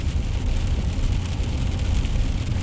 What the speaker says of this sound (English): it's been raining pretty steadily ever since